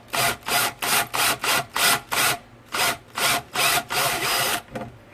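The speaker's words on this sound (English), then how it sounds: "I'm keeping the drill as parallel to the peg head as possible." Wood on a guitar peg head is worked with a drill held parallel to it, giving a close, loud rasping scrape repeated in about a dozen rhythmic strokes.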